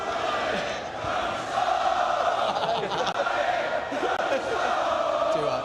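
A large crowd of Manchester City fans chants and sings a player's name at a treble trophy parade, a loud, massed wash of voices with shouts rising above it.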